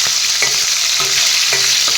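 Fish pieces fry loudly in a wok, a close, constant sizzling hiss with periodic soft knocks and scrapes as the pieces are moved about.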